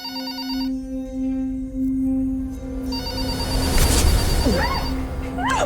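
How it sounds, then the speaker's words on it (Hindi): A landline telephone rings in a home, a repeated electronic trill in short bursts. A loud crash and scraping noises break in partway through, and brief vocal sounds come near the end. "इस वक्त लैंडलाइन पे कौन फोन कर सकता है?"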